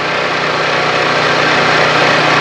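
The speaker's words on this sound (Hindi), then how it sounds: "यहाँ पर बाइक जो है वो थोड़ा सा रेस कम हो रही है" A Honda motorcycle engine idles steadily up close while its carburetor mixture screw is being adjusted, giving a continuous loud mechanical rumble with no talk.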